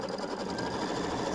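A sewing machine stitches plaid quilting lines on a gnome quilt block, running in a fast, even mechanical rattle, close and continuous for the brief moment.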